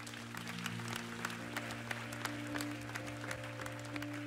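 Church congregation applauding the Lord during a Sunday worship service, steady clapping from many hands over a sustained organ or keyboard drone, moderately distant and continuous throughout.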